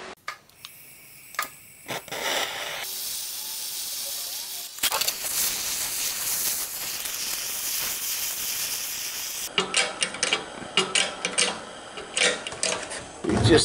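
A small red torch heating a tube for a DIY Voight build, a steady close breathy hiss that shifts in tone a few times, with short ticking and clicking noises at the end.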